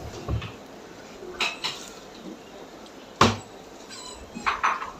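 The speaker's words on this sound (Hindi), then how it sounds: "अब हम इसमें 2 अंडे बॉयल डालेंगे।" Two boiled eggs dropped into a pan over low heat while making a creamy grill sandwich, giving a few sharp, sparse clanks and knocks against the cookware over a quiet background, with no talking.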